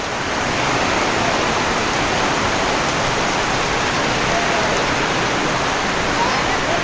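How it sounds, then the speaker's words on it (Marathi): Heavy monsoon downpour on a Konkan village, a dense, steady roar of rain that stays loud and unbroken throughout with no voices. "एकदम मुसळधार पाऊस हा"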